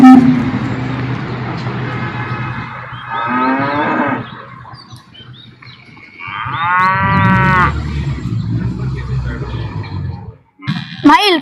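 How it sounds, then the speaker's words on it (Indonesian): Cattle gathered as sacrificial animals for an Eid al-Adha (Zulhijah) event moo repeatedly, with several long, loud, drawn-out calls close by, separated by lulls of background noise and brief mixed sounds. "Mail, kenapa ini banyak sekali sapi di sini?"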